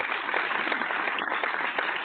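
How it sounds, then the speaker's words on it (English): Studio applause during a barbershop talk radio show after a win, a steady, dense patter of clapping that holds at an even level for about two seconds. "Let's applaud them again"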